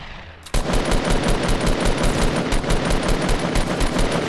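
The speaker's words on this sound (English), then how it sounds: "I'm getting shot at from like three different ways" Dense, rapid automatic gunfire from a shooter video game erupts after a brief quiet start and continues loud and unbroken, with overlapping bursts suggesting several weapons firing at once.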